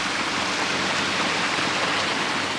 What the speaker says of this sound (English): You hear the flow of water here. It's draining from right up there, like mini waterfalls.